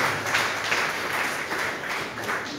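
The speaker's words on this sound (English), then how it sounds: "Please give a big round of applause for all devotees." A crowd of devotees at a Hare Krishna temple celebration in Chennai claps together, a dense, steady, fairly close round of applause with no voices standing out.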